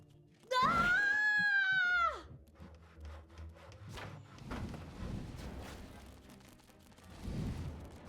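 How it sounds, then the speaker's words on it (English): A single sudden scream rings out in the video game Dungeons 3, loud and wavering for about a second and a half, then fading into quieter game sounds and scattered clatter. "I was not paying attention when I heard the random scream."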